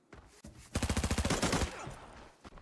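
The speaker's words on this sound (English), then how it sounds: "Looks like they're in a gunfight here with a mix of bots and a TAC Ops team." Bots and a squad trade fire in the Arena Breakout shooter game: a rapid automatic burst of around a dozen evenly spaced shots rings out, fairly close, followed by a couple of isolated shots as the firing trails off.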